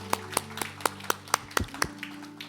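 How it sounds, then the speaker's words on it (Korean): Church congregation at a Sunday worship service clapping in thanks to God, a short run of steady, evenly spaced claps fading out with no voices. "우리 하나님께 감사의 박수를 드리겠습니다"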